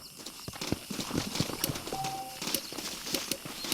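Horse hooves clip-clop in a steady, moderately close rhythm in Red Dead Redemption, mixed with faint game ambience and a brief tonal sound partway through.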